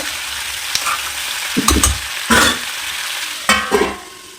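Tomatoes and masala cook in a pan as a loud, continuous frying hiss, broken by a few louder bursts of clatter and stirring, heard up close without speech.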